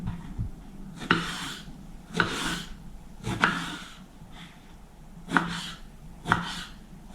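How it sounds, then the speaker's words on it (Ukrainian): A knife cuts peeled eggplant into cubes of about one and a half to two centimetres on a board, about six separate chopping strokes spaced unevenly, close and crisp, with no talking. "Тепер нарізаю баклажани"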